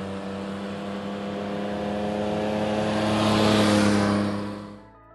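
A 2024 Yamaha Tracer 9 GT+ motorcycle triple engine revs up, a steady rising drone that swells louder toward the end before quickly cutting off.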